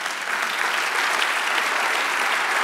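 Church congregation applauding together, a dense, steady wash of many hands clapping, loud and close throughout with no break.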